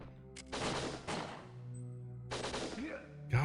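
Gunfire and explosions from the video game WinBack, with several broadband bursts and a longer sustained blast-like stretch over about three seconds, mixed with game tones and faint voice.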